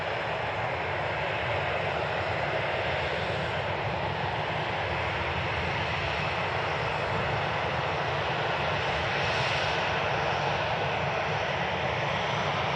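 A Qatar Airways Airbus A350, a two-year-old airframe, roars steadily at an airport runway, a dense, sustained jet-engine rumble and hiss that holds at constant strength throughout, with no voices.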